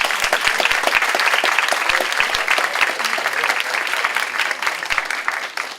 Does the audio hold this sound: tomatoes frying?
no